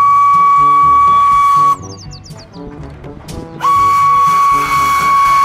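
A toy Thomas & Friends train lets out a loud, sustained electronic whistle over a busy toy jingle, breaks off briefly for a few chirping sweeps, then resumes the steady whistle to the end.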